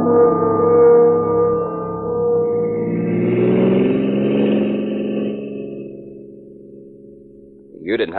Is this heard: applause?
no